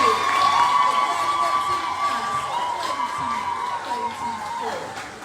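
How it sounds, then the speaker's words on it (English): Audience at a secondary school graduation ceremony cheering and applauding, a broad steady crowd roar with shouts and whoops throughout, no speech over it. "let us now give a hearty applause to our valedictorian, our salutatorian, and the students"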